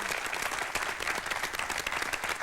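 A talk show studio audience applauds in a dense, steady burst of clapping that lasts a couple of seconds.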